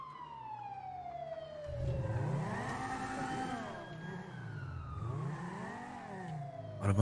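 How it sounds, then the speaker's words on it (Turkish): A car engine revs and whines in the video game GTA V during a police chase, rising and falling in pitch over several seconds, with a siren-like wail blended in; fairly loud and steady, no talking. "Arabanın sesini duyuyorum ama."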